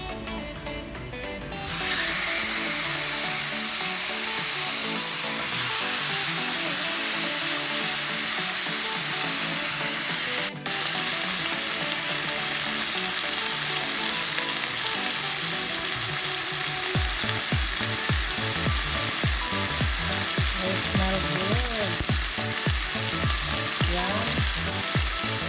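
Chicken thighs for shish taouk fry in a pan with a loud, steady sizzle and hiss that carries on without a break, with occasional stirring and scraping sounds toward the end.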